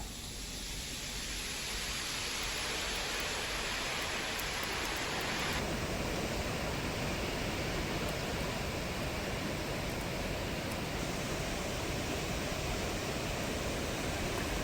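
Water released from the Girna dam near Nashik roars as a loud, unbroken rush that holds steady throughout, with no voices.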